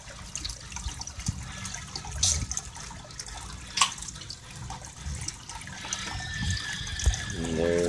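Water flowing and trickling through a siphon breaker on a barrel aquaponics system, a steady close splashing with scattered drips and gurgles, outdoors in the evening, with no voices.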